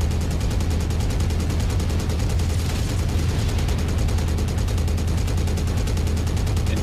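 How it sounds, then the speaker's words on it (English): Weapons fire continuously in the mech combat game MechWarrior 5, a dense unbroken barrage of rapid shots over a deep rumbling low drone. "Firing on this guy, going in."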